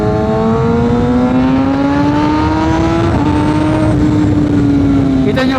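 A 2022 Kawasaki ZX6R sportbike engine revs loudly and close up, its pitch climbing steadily over several seconds before dipping and rising again, a continuous high-revving whine.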